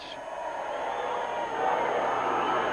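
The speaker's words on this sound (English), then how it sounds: "the kids in the cheering section have got that needle in the red" A high school hockey cheering section in a rink, Lake Placid against Saranac Lake, a broad crowd roar that swells and grows louder partway through, with some voices in the mix.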